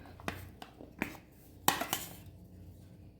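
Raw mango pieces are dropped into a mixer jar for mango chutney, making a series of sharp clinks and clatters against the jar, with a busier cluster of knocks near the end, close and fairly loud.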